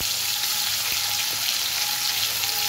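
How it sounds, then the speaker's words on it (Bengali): Bitter gourd and okra fry in hot oil in a home kitchen, giving a loud, close, continuous sizzle with a faint clatter of utensils underneath and no speech. "আমি এবার উচ্ছেটা ভেজে নেব, উচ্ছে ঢ্যাঁড়সটা ভেজে নেব"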